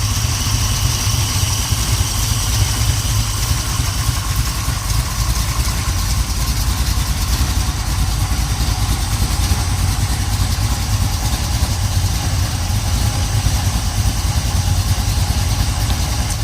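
A 1970 Pontiac Ram Air III stroker V8 running on pump gas idles steadily at around 700 RPM, a deep continuous rumble with occasional exhaust crackle, loud and close with no voices.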